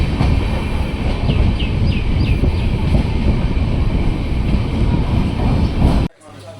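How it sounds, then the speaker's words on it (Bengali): A train pulling into Thakurganj station makes a loud, continuous rumble and rattle heard from on board, with a few faint squeaks, before the noise drops away abruptly near the end. "ট্রেন এসে পৌঁছলো ঠাকুরগঞ্জ স্টেশনে"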